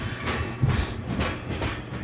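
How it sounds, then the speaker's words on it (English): A freight train departing in the farming game Farming Simulator 15, giving a steady rolling rumble with rhythmic clacking that pulses every half second or so for about two seconds, moderately loud with no talking. "we just sent the train on"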